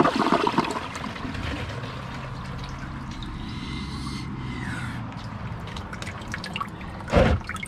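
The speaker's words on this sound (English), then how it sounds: "Let's give it a flush and see if all of it goes down." A toilet flushes a bag of 100 fake cockroaches, a steady rushing and gurgling water roar with trickling and dripping, ending in a brief louder splash near the end.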